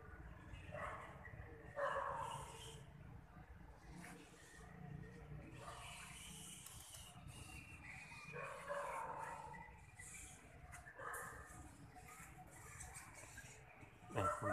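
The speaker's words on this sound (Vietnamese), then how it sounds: "Đây có một chú chó. Nó đang lên đây." A dog at Chùa Dơi, a Buddhist temple in Sóc Trăng, gives a few barks and yips amid steady outdoor ambience, while people talk nearby.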